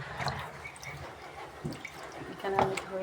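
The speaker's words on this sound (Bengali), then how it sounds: "অনেক পরিষ্কার করে ধুচ্ছি" Water drips and splashes as raw meat is washed by hand, with trickles and a brighter splash near the end, heard close under a person's speaking voice.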